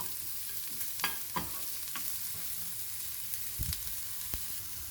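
One small, finely chopped onion sautéing in a pan, giving a steady close sizzle broken by several sharp scraping and tapping strokes of a stirring spoon, with no voices.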